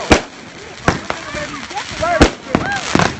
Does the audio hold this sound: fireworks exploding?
yes